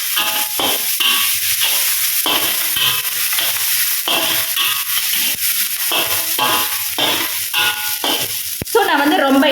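Steady crackling sizzle of spices tempering in hot oil for dhal curry, continuing throughout with a voice talking over it.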